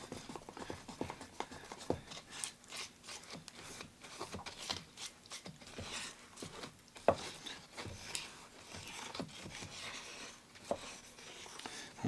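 Brownie batter being stirred in a plastic yogurt mixing bowl, a steady run of soft scraping, rubbing strokes and light taps, fairly quiet and close with little talk.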